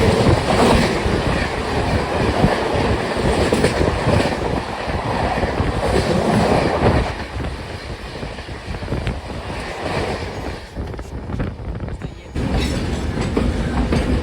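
The Jhelum Express overtaking at 130 km/h beside a moving train, a loud, sustained roar of rushing wheels and rail clatter with wind buffeting, easing slightly midway and then surging again near the end.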